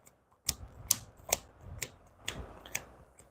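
Stack of game cards for a tabletop board game being shuffled by hand, heard as a run of crisp, close snapping riffles in quick bursts about every half second, alone in a quiet room.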